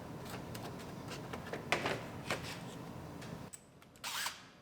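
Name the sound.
power tool unbolting a Ford Explorer bumper cover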